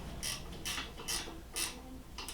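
A screw and nut are being tightened during a South Bend lathe restoration, giving five quiet, evenly spaced ratcheting clicks, close and faint, with no talk.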